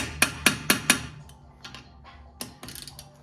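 A T30 Torx set screw on a 2019 GMC Canyon rear brake is tapped with a tool: four sharp, evenly spaced metallic taps, then a few lighter scattered knocks and clinks.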